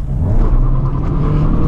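A Renault Dokker van carrying a full load accelerates hard through first gear, its engine giving a loud, steady rumble and straining roar that holds level for the whole brief moment, with no talking.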